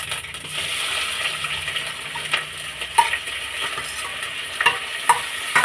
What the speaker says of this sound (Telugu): ఇప్పుడు మనం టమోటా వేసుకుందాం